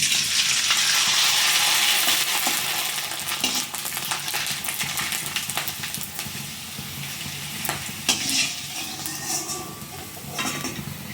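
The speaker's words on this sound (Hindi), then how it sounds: "और ये देखिए तुरंत ही फ्राई हो जाते हैं" Sabudana chakli deep-frying in hot oil, a loud dense bubbling sizzle that eases slightly over time, with occasional metal utensil clinks and scrapes, no voices.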